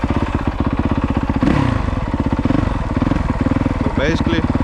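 A dirt bike engine revs hard and steady with a fast, pulsing rattle as the clutch slips during a launch, loud and close, with a brief high squeal near the end.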